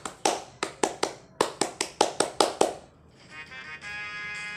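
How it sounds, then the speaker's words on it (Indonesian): Scout-style rhythmic group clapping, the Indonesian Pramuka clap, with about a dozen sharp claps in a patterned beat that ends abruptly, followed by a brief faint tonal hum. "Tepuk pramuka."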